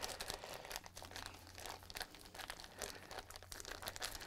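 Crinkling and squishing of a thick plastic freezer bag as soft icing sheet clay is kneaded and pressed inside it, irregular rustles close by.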